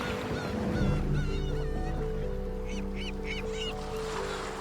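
Harsh, strident calls of a gull on rugged coastal cliffs ring out in a short series of loud squawks over a continuous droning background.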